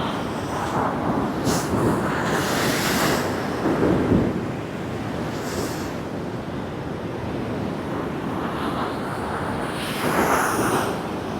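Choppy sea surf breaking heavily along the seafront at Scarborough Spa, a continuous loud roar of crashing waves with gusting wind buffeting the microphone and surges around four and ten seconds.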